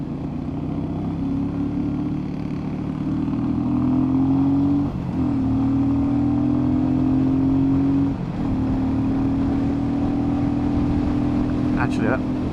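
A Royal Enfield Meteor 350 motorcycle accelerates through its gears. The steady engine drone climbs in pitch, breaks briefly at each shift and climbs again, loud and close under wind noise.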